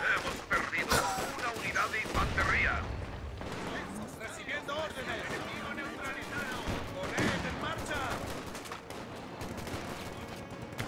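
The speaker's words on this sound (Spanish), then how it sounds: "Tremendo bazocazo que le ha metido al tipo" A heavy bazooka blast booms in the video game Company of Heroes 2, set among rapid gunfire and explosions in a loud, busy battle.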